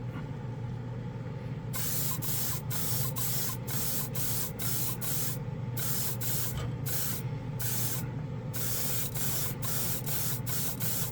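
Iwata RG-3L spray gun spraying auto paint on car and large-scale models: a steady hiss broken into many rapid short bursts as the trigger is pulled and released, close up over a constant background hum.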